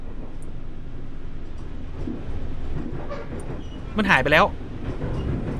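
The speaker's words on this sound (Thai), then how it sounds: "เอามีรถไฟกำลังมาครับ" A train passes by outdoors, heard as a steady rumbling wash of rail noise. People talk over it, with a short burst of louder voices toward the end.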